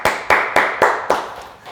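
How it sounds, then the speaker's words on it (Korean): Church congregation clapping together, five sharp, unified claps in a steady rhythm, each ringing out with a reverberant room decay. "주께 감사와 영광의 박수 올려드리겠습니다"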